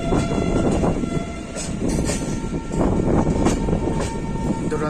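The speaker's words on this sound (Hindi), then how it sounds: "हमारी train Sanghamitra superfast express Nagpur junction में एंट्री कर रही है" The Sanghamitra Superfast Express rumbles steadily at close range as it enters Nagpur Junction, a continuous heavy roar of wheels and carriages with faint metallic clatter and no voices.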